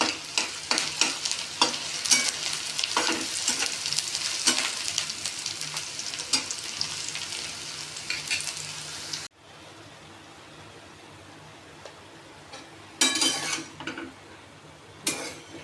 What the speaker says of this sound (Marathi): कांदा आणि लसूण छान शिजत आले किंवा छान फ्राय झाले तेव्हा आपण हळद आणि टोमॅटो टाकूया.